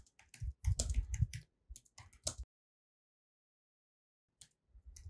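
Clicks from typing on a computer keyboard, close and crisp, in a quick cluster for about two seconds, then silence, then a couple of faint taps at the end.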